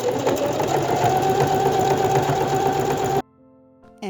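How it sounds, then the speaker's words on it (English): A sewing machine runs steadily, stitching the side seams of a t-shirt sleeve with straight stitch or overlock, a continuous close whirring drone for about three seconds before stopping abruptly, followed by near silence and a faint restart. "Then sew with straight stitch or overlock."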